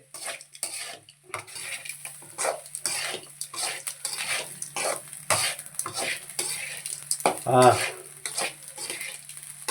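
Grated coconut fries in a pan while a spatula scrapes and stirs it, giving irregular close scraping and clinking strokes over a faint sizzle.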